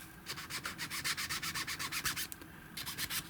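Close, steady rubbing strokes scrubbing tarnish off a metal part of an AC brush motor, a rapid rhythmic back-and-forth that pauses briefly midway before resuming.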